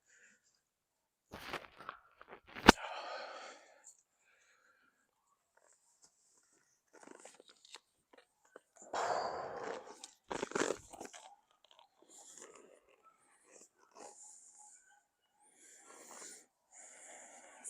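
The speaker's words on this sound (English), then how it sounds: "Lots of licking and chewing." A horse licks and chews, giving soft wet mouth sounds, crunches and snorts in scattered bursts with quiet gaps between them. The sounds are close but faint.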